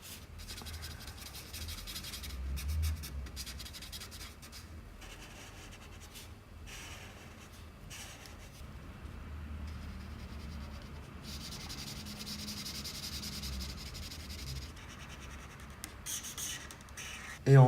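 Coloring a drawing by hand on paper makes a continuous soft scratching and rubbing that runs close and steady for a long stretch, with brief pauses and no talking.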